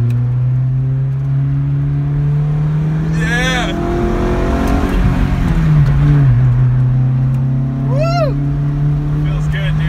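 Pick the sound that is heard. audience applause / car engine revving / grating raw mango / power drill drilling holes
car engine revving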